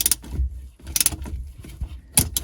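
A bolt being tightened on the distributor of a 951 DI direct-injection jet ski engine, with a few short metallic clicks and ratcheting scrapes over low mechanical rumble, close up.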